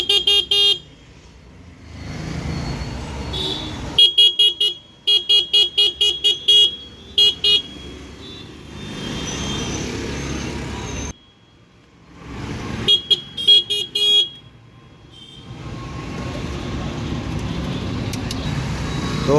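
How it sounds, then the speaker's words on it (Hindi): An e-rickshaw's shrill electric horn beeps in rapid bursts, twice, between stretches of buzzing motor hum and brief quiet gaps, after its faulty wiring is repaired. "यहाँ पे अब देखिए हमारा हॉर्न बज रहा है"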